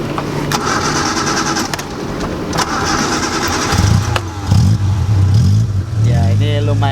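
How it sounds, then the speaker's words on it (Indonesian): An old 1989 Suzuki Forsa GLX engine cranks roughly for a few seconds, then catches and settles into a loud, close idle. "Ya ini lumayan agak susah untuk di starter ya"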